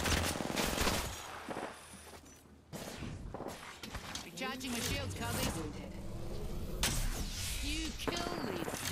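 Automatic and rapid gunfire bursts in Apex Legends during an April event, loud and dense across the clip, mixed with game effects and a player talking over it.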